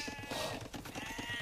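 Sheep bleats from the video game Age of Empires II, several short bleats repeating in quick rhythm over steady game background sound, fairly clear and close.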